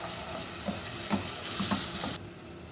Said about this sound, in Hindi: अब इसे हम 2 मिनट तक फ्राई करेंगे ताकि ये थोड़े से ब्राउन हो जाए।